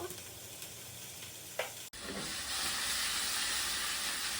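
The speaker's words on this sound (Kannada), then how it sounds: "ಎಲ್ಲ ಸ್ಟರ್ ಫ್ರೈ ಮಾಡ್ತೇನೆ ಅಷ್ಟೇ" Quiet kitchen noise, then a sudden burst of loud sizzling as chunky salted vegetables hit the hot pan and keep stir-frying steadily.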